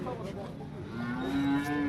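Cattle lowing at a cow market in Modnimb, with a long, loud moo rising near the end over a steady background of farm noise and bustle.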